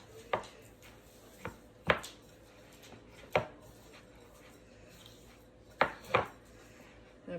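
Soft room-temperature butter being worked by hand in a bowl, giving a few sharp scraping knocks of a utensil against the bowl at irregular intervals, close and fairly quiet against a low background.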